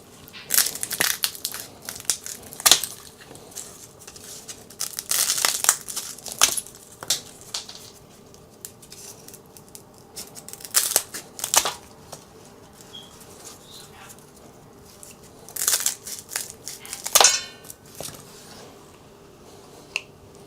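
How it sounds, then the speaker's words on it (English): Garlic stems are snipped off bulbs with scissors or shears, a series of crisp, close crunching snips in irregular bursts with quiet pauses between cuts. "And we're going to snip off a bunch of these things and then put them into the tray."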